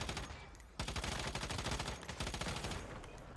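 Rapid automatic gunfire crackles in bursts during video game play, dense and rhythmic, fairly quiet overall, with a short pause before the shooting resumes.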